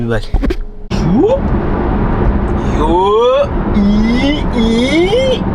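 A 2021 Tesla Model Y electric car drives along with a steady rush of road noise. Its motor whine climbs in pitch several times as it accelerates, and people talk loudly inside the cabin over it.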